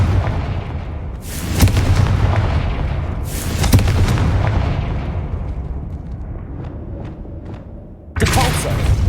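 Fiery explosions from the Confringo spell in Hogwarts Legacy, several loud booming blasts a couple of seconds apart with crackling tails and smaller pops between them.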